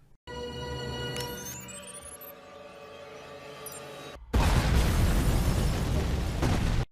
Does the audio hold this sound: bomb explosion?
yes